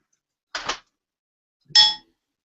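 Two separate chime strikes ring out in an otherwise silent room: a short, muted ding, then a brighter, clearer tone that rings for a moment before fading.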